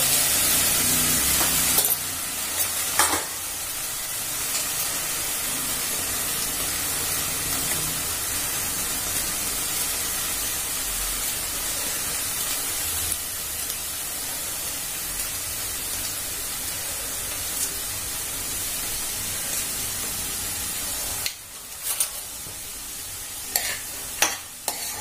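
Spices roasting in a pan, a steady broadband sizzle with soft stirring scrapes that runs for the whole stretch, dipping briefly near the end before a few sharper clatters.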